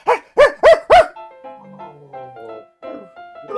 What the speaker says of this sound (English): Dad, get away from that dog.